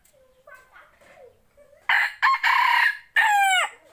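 Young roosters at a poultry sale give soft, faint clucks, then two loud, close crows in quick succession with a short gap between them.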